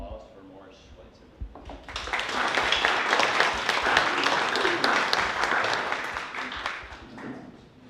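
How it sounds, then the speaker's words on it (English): A symposium audience breaks into applause for a lifetime achievement award recipient, rising abruptly from quiet talk into sustained, even clapping that fades near the end. "let's give a great round of applause for Morris Schweitzer"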